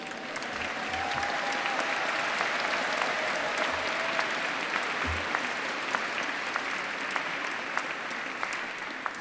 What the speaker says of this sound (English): Would you give them a clap, please?